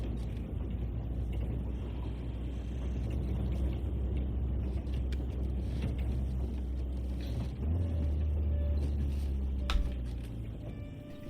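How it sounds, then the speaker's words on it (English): A truck rolls along in Unknown 9 Awakening, heard from inside as a continuous low engine rumble with faint rattling ticks. The drone swells slightly near the end, with no talking. "Sounds like we're in the back of a truck."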